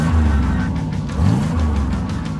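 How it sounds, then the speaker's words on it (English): Go-kart engines rev loudly at the start of a race in pink balloon-decorated karts, a steady close mid-pitched drone that climbs and dips in pitch throughout. "Start your engines!"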